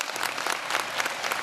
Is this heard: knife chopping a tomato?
no